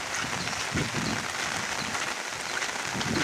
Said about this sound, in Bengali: এখনো বৃষ্টিপাত হচ্ছে।